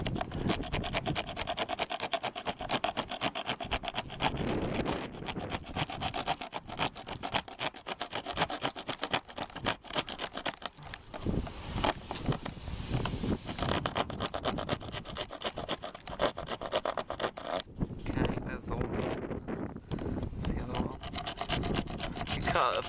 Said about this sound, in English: we're just gonna use a little sort of saber saw thing